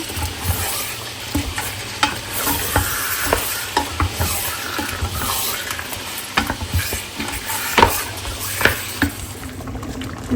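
Meat set to cook in a hot pan, with a continuous sizzle broken by repeated scraping stirs and light clanks of utensil on metal, close and fairly loud with no talking.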